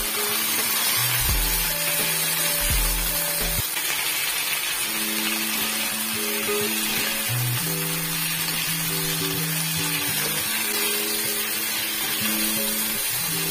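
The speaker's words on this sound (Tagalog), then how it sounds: "Stir fry lang natin yung ating bok choy kasama ng ating bawang." Bok choy stir-frying with garlic in a hot pan, giving a steady, close sizzle throughout while low musical tones play underneath.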